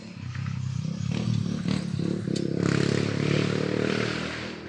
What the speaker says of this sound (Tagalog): Mag-ingay naman ang motor ato eh.